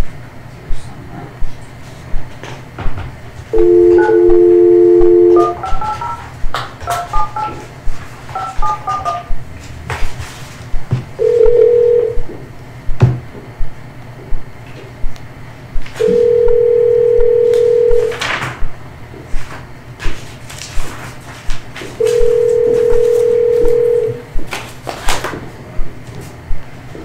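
Touch-tone dialing beeps and steady dial tones from a conference phone in a county commissioners' meeting room, several short keypad tone bursts followed by three separate sustained tones, with murmuring voices and room noise beneath.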